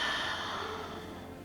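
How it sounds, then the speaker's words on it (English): A single slow, soft breath exhales during a morning yoga session, a gentle airy release that fades gradually with no talking. "And an exhale."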